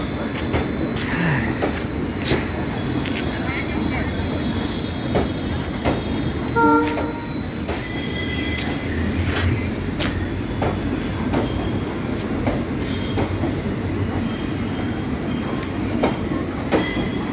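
A WDP40 diesel-hauled passenger train between Izzatnagar and Kashipur runs on its rails with a constant loud rumble and clatter heard from aboard, with faint wheel squeals and clanks over the roar.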